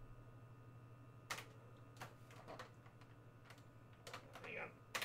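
Keys clack on a portable computer's keyboard running MS-DOS in separate quiet bursts of several strokes, set over a steady low electrical hum from nearby equipment.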